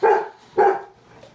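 A dog barks twice at a balloon, two loud, close, sharp woofs about half a second apart, followed by a faint trailing whimper.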